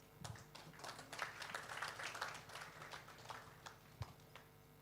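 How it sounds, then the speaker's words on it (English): An audience at an engineering conference gives quiet, scattered applause that sounds distant and faint, with one sharper thump near the end. "let's give him a round of applause"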